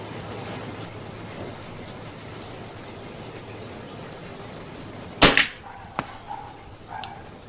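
Hatsan Galatian air rifle firing a single pellet during a pellet test, a sharp, loud crack after several seconds of quiet outdoor ambience, followed by a couple of faint distant taps.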